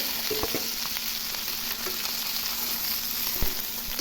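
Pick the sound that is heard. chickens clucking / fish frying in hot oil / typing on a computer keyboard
fish frying in hot oil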